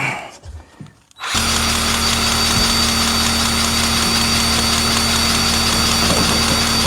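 A skid loader's engine starts after a brief quiet moment and then runs loud and steady at a constant idle-like drone while the front of the machine is lifted off the ground.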